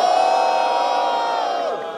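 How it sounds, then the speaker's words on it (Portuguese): A crowd at a Brazilian freestyle rap battle lets out a brief sustained shout and whoop, loud and close, fading slightly toward the end. "Quem acha que levou o primeiro round foi meu mano Zed, faz barulho"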